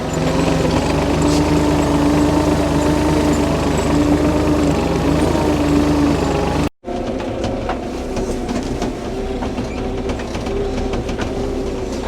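A heavy tractor engine idles steadily with a low droning rumble and rattling mechanical clatter, loud and close, briefly cutting out before resuming.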